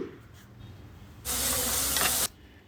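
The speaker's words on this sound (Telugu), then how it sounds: "ఒక స్పూను అల్లం వెల్లుల్లి పేస్ట్ కూడా వేసుకొని పచ్చివాసన పోయేదాకా ఫ్రై చేసుకుందాం" Onions frying with a spoonful of ginger garlic paste in a village-style kitchen, a steady loud sizzle that bursts up for about a second and then drops away, with no talk over it.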